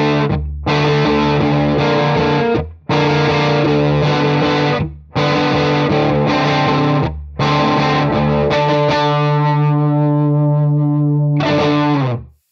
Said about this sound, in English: that is my sound, a Les Paul into a Marshall